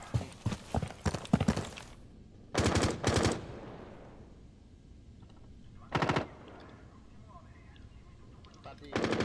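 Rapid automatic gunfire in a video game shooter comes in short loud bursts, a rattling volley at the start, then separate bursts near three, six and nine seconds, with quieter game ambience and a little talk between.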